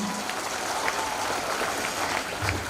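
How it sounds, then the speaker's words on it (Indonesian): Audience at a school socialization event for SMA Unggul Bina Kasih Nusantara clapping in a brief, steady burst of moderate-volume applause. "Berikan tepuk tangan yang meriah"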